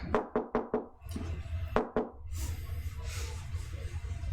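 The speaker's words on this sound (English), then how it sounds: "Then you hear a knock back." Sharp knocks on a weathered wooden front door: a quick run of four raps, then two more after a pause, followed by a steady low rustling hiss.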